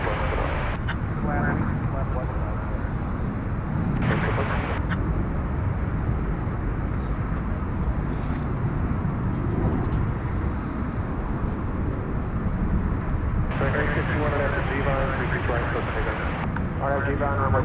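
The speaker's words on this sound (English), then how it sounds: "No question that this is an iconic aircraft" Jet airliner engines rumble steadily at DFW Airport at night, a continuous loud roar with people talking over it throughout.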